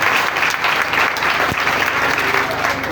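A church congregation claps continuously, a dense, even wash of applause filling the room with no break.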